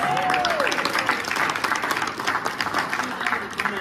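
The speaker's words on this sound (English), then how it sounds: "Give yourselves a round of applause." Applause from the audience at a Democratic club general meeting, a broad crowd clapping that starts strong and thins slightly, with a few cheers or voices mixed in early on.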